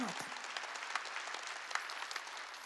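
A church congregation applauds during a sermon, dense hand clapping sustained throughout, fairly soft and a bit distant.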